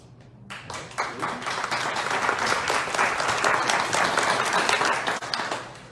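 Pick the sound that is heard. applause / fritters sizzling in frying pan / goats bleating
applause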